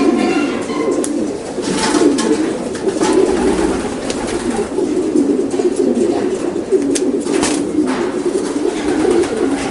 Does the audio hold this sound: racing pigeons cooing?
yes